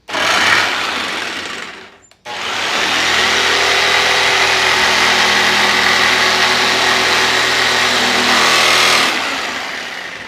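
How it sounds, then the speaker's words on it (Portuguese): A jigsaw cuts wood for a homemade hanger in a woodworking shop, a loud, steady buzzing whine that stops briefly near the start, then runs continuously for about seven seconds before easing off. "vou ligar tico-tico em outra tomada"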